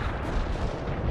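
Heavy artillery barrage in World in Conflict, a dense continuous rumble of overlapping booms and blasts with no clear gaps, loud and close throughout.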